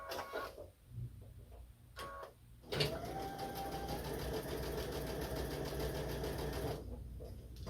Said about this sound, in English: we're going to sew the seams together